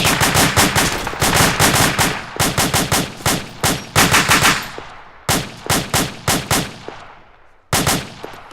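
Close, loud bursts of rapid gunfire crack out in repeated volleys during a firefight, with brief gaps between the strings of shots.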